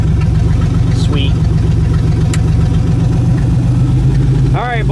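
An old Buick Regal derby car engine idles loudly right after starting, a rough, steady rhythmic chugging that continues throughout, with brief voices over it.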